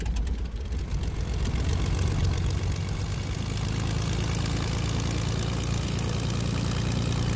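A propeller airplane engine in a video game drones steadily and loudly at a near-constant pitch throughout, with no talk over it.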